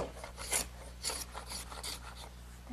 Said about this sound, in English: the first thing I want to do is unclamp the boards and scrape off any excess glue